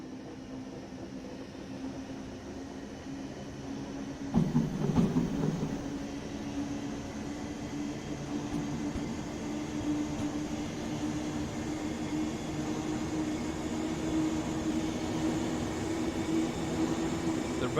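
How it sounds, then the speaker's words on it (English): A DBB 1020 electric locomotive hauling a train on the Mittenwaldbahn in Train Sim World 5 rumbles along with a steady electric hum and rolling drone, a brief louder clatter early on, no voices. "This train is hauled by an DBB 1020"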